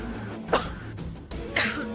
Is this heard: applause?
no